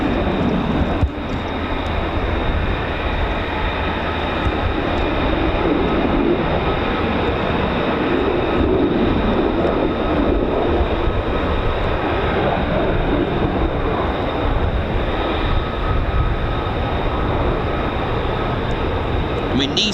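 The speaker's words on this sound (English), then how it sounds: "There's another 2 short takeoffs. Here we go." F-35B stealth fighter jets from 809 Naval Air Squadron and 617 and 207 Squadrons making short takeoffs, heard as a continuous, heavy, broad jet roar that holds steady and loud for the full twenty seconds.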